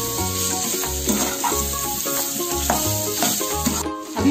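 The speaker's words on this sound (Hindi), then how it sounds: "हल्दी 1 चम्मच, थोड़ा मैदा दिया मैंने, ये फ्राई कर लेंगे।" Turmeric and a little flour fry in hot oil in a pan, giving a steady hiss under louder rhythmic background music with a repeating bass pattern.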